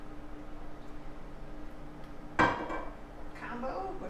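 Oil is poured into a hot, lightly smoking wok for a seafood stir fry: quiet background hum, then a sudden sharp metallic clink and a burst of sizzle, followed by a softer rising hiss.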